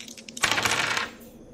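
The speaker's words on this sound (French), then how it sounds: "Ok, je lance les dés." Dice rattle and clatter across a table during a tabletop role-playing game, a short burst of hard clicking that settles quickly, close and fairly loud with no voices.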